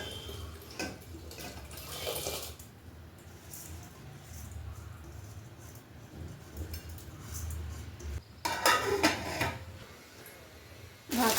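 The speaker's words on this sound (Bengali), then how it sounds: "চটপট করে চালটা ধুয়ে দিয়ে দিই" Rice being washed in water in a home kitchen, with steady sloshing and splashing, a few knocks of a pot and a burst of louder running water near the end.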